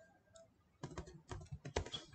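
Code being typed on a computer keyboard during an Angular tutorial. There are quick, close clicks and key taps in uneven bursts after a brief quiet start, with no voices.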